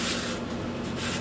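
Hand sanding on RC airplane material, a steady rasping rub with short back-and-forth strokes, close and continuous, with nothing else in the background.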